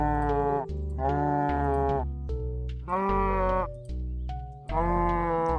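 Livestock-style bleating calls from a giant cow in Starbound, several long tonal bellows in a row separated by short pauses, loud and close over steady game music.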